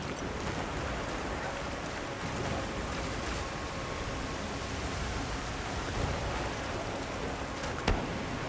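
Dense, steady roar of heavy rain pouring down in Monster Hunter Wilds, a constant broadband hiss with no breaks, occasional faint drips or clicks.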